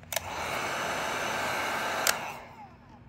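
A heat gun blows a steady, hissing stream of hot air onto chrome grill trim of a Mercedes-Benz, a continuous close whoosh lasting over two seconds between click-like switch sounds before it cuts off.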